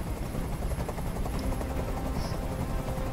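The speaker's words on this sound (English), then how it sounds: "Tell that helicopter to get out of here." A helicopter in the video game Detroit: Become Human gives off a continuous, loud rotor roar that stays steady and fills the whole moment, with no talking over it.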